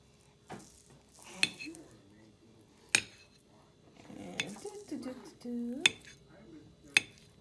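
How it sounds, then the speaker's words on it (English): A kitchen knife chops cooked potatoes into smaller pieces, giving sharp, irregular taps and clicks against a board, spaced a second or so apart, with soft handling noises and quiet talking between cuts. "I'm gonna cut these up into smaller pieces, which will just make it easier to blend"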